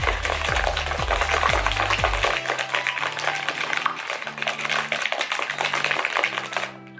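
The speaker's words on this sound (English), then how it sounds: "So we're gonna shake it." A protein shaker bottle with ice cubes is shaken hard, giving a steady, loud rattling and clattering of ice against plastic that runs for about seven seconds before stopping, with a low melody underneath.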